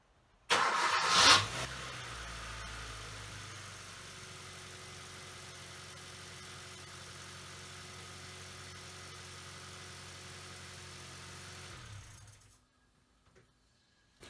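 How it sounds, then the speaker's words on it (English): A Kia Soul 1.6 petrol engine cranks and starts with a loud burst, then settles into a steady, even idle with a faint whine for about ten seconds before being switched off. "So when you start the car, if it sounds a bit tickety, not to worry, within a few seconds it should disappear as the oil gets pumped around"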